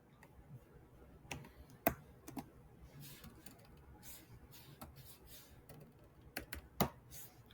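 Faint, sparse clicks of typing on a computer keyboard while entering a website domain, a few soft scattered keystrokes with quiet pauses between them.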